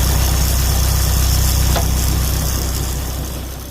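A Chevrolet Colorado with the 2.8 diesel engine runs at a steady idle nearby, a low continuous rumble with a faint rattle, tapering slightly toward the end.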